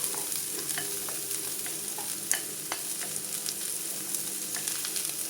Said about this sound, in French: Donc là je vais juste mettre mes petites courgettes pour l'instant, seulement que mes courgettes.